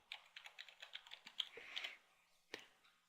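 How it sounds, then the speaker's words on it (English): Keys clack quietly on a computer keyboard as an admin username and password are entered, a quick run of light taps, then a pause and a single later keystroke. "Key in our admin username and password."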